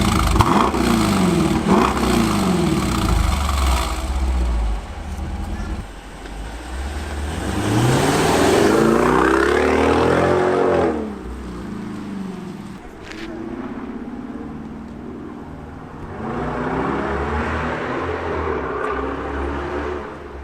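A Jeep Grand Cherokee fitted with a Borla cat-back exhaust revs and pulls away, its deep engine note rising and falling through several accelerations and passes, loud and close, with voices talking in between.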